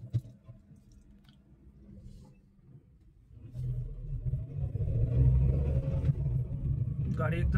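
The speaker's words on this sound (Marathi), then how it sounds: "गाडी एकदम स्मूथ चालते" A car drives off after a wheel alignment and balancing, a low engine and road rumble swelling from quiet idle to a steady, smooth drone while someone talks over it.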